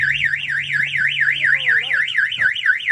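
A 1966 Ford Mustang's car alarm, set off by shock, wailing loudly and continuously, its pitch rising and falling in a fast, regular cycle, close by.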